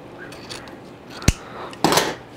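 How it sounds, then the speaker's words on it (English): Scissors are picked up and handled while a wreath is being made, giving a sharp metallic snip-like click followed by a brief rattling clatter, close and fairly loud over a quiet background. "Where'd I put my scissors? There they are."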